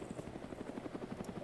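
A video game helicopter's rotor thumps in a rapid, steady pulse, faint and droning, with no voices.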